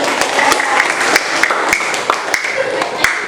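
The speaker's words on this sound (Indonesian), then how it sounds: "Tepuk tangan dulu untuk teman." Classroom applause for a student who made tea in a lesson, a burst of fairly close hand claps with sharp individual claps standing out, mixed with room murmur.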